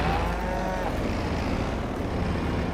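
Cows on a farm in Farming Simulator 22 low and moo amid a constant engine-like rumble, the bovine calls blending into the dense background of machinery noise.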